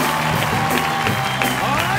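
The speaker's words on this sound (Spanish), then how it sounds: "demos un fuerte aplauso para recibir a Rodolfo Jiménez, Celeste Santana y Marielena Anaya" A television studio audience applauding and cheering to welcome guests onto a late-night talk show, a dense continuous wash of clapping and crowd noise.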